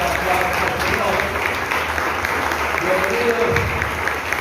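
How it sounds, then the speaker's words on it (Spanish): A church congregation applauds during an anniversary service, steady clapping mixed with crowd voices and talking throughout. "dándole fuerte aplauso al Señor"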